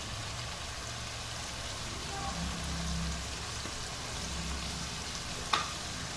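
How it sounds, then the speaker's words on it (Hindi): Sliced potatoes frying with onions in a pan give a soft, steady sizzle and crackle at low level, with a low hum underneath and a single sharp clink near the end. "जैसे ही हल्का सा प्याज फ्राई होगा तो हम साथ ही डाल देंगे आलू की कतरियाँ, क्योंकि हमने इनको भी फ्राई करना है साथ ही।"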